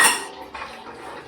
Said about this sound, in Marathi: भांडी वगैरे घासायची आता.